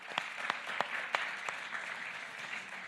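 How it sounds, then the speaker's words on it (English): Conference audience at a disinformation panel gives a warm round of applause, steady dense clapping with a few sharper claps standing out early, fading slightly toward the end. "So a huge round of applause for yourselves as well."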